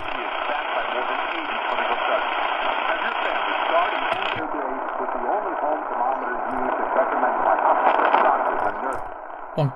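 A distant daytime medium-wave AM station comes through a Tecsun PL-310ET portable receiver with a loop antenna, a voice muffled under steady hiss and static, fading slightly toward the end.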